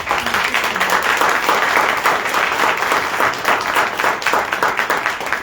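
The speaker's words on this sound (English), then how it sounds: "let's give our candidates a round of applause" Sustained audience applause for political candidates at a Monday night politics forum in Dallas, dense steady clapping filling the room at an even level throughout.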